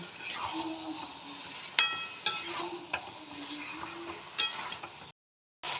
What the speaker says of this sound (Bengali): এবার আমি এই এঁচোড়টা দিয়ে দেবো দিয়ে কষিয়ে নেব সব কিছু একসাথে